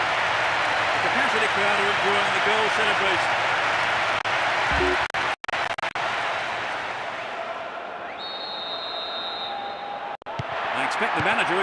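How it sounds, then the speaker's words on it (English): Stadium crowd in the football game PES 6 roaring and applauding a goal celebration, a loud continuous wash of crowd noise with a few brief dropouts and chant-like tones rising through it. "The capacity crowd are enjoying the goal celebration."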